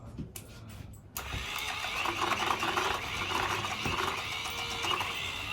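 A mini washing machine washing sponges, starting with a few clicks and then settling into a steady mechanical whirring and sloshing churn with a rhythmic knock, close and continuous.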